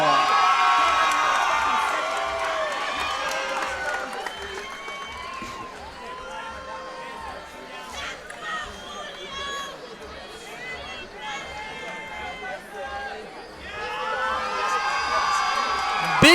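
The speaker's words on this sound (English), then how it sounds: "Big cheers from the crowd for 19-year-old Milton Arguello" A cage-side crowd cheers and whoops as a 19-year-old fighter walks to the MMA cage at an amateur fight night, loud at first, dipping in the middle, then swelling again, with an announcer talking over it.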